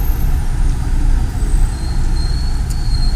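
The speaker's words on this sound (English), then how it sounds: "Traffic everywhere." Street traffic in Athens, Greece, a loud, steady low rumble of trucks, buses and cars passing close by, with faint higher whines above the constant roar.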